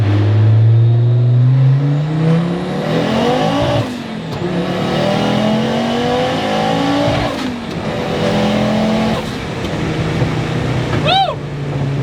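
A VW Passat with a swapped Porsche engine accelerates hard in first gear from a roll, its loud engine note climbing through rising revs with gear-change dips, while excited voices talk over it.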